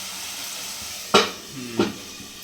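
Spices sauté in a pan for a Bengali chara pona fish curry, with a faint steady sizzle and two sharp metallic scrapes of a spatula against the pan.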